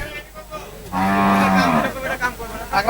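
At a cattle market, a cow gives one loud, drawn-out moo close by, preceded and followed by quieter background noise.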